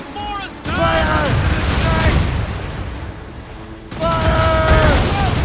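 Cannon fire in Assassin's Creed Rogue booms in loud volleys, with crackling blasts and rumble in two main surges, while shouting voices carry over the battle.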